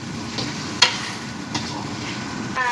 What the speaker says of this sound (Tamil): இது எண்ணெயிலே வேகிறதுனால தான் வேலூர் ஒத்தக்கடை எண்ணெய் சுக்கா